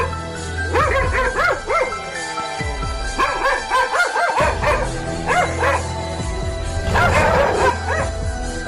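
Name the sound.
dogs barking during a leopard encounter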